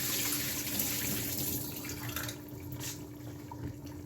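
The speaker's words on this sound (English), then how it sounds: "Just going to drain my potatoes." Water from boiled potatoes poured off into a sink while draining them, a steady close rush of liquid that thins and trickles toward the end.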